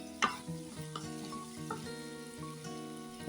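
Potatoes coated in turmeric are sautéed and stirred in a pan, with a soft, close sizzle broken by a sharp scrape at the start and repeated gentle stirring knocks at a fairly quiet level.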